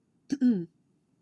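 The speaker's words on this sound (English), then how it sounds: "I'm starting to cough" A single short cough or throat-clear, close and distinct, followed by silence.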